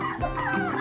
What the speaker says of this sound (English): We got some vocal puppies.